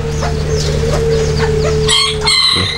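A hybrid Poland rooster, crossed with serama or kate bantams, crows loudly and close by in a single drawn-out call, with hen clucking and a steady hum underneath.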